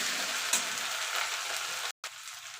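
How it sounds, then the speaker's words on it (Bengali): Sliced ginger sizzles steadily in hot salted oil in a pan while cooking a papaya curry, a dense continuous crackle with a brief cut near the end. "দিয়ে আদাটাকে একটু ভাজা ভাজা করে নেব যাতে আদার কাঁচা গন্ধটা চলে যায়"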